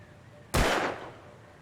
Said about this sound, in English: I wonder if you get a trophy for shooting these cans over.